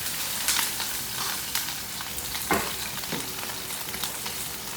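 Potatoes and cauliflower fry in a pan, giving a steady soft sizzle with scattered crackles and pops, heard alone at fairly low volume during festival cooking.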